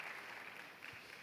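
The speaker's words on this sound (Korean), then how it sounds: "다시 한번 축복의 박수로 함께 하겠습니다" Faint, steady applause from a congregation at a church youth worship service, a continuous patter of clapping heard at a distance with no voices over it.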